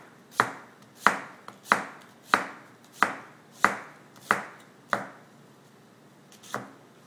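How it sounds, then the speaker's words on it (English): A knife chops down through an onion on a cutting board, French-chop style, into half-moon slices: nine crisp, evenly spaced strikes, close and clear, with a short pause before the final cut. "place the knife at the top of the onion and the tip off the board and cut straight down"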